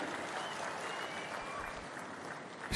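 An audience claps together in a steady, dense burst of applause that stays even throughout, heard from a moderate distance in a hall with no voices over it.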